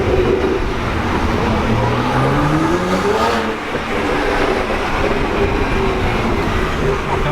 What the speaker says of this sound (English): you can hear the turbo spool and things like that